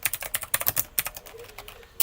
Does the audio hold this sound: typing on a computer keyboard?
yes